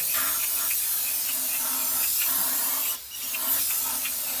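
Cleaner sprayed onto the differential gasket area of a Ford F-250 7.3, a continuous close hiss of spray with a brief pause before it resumes.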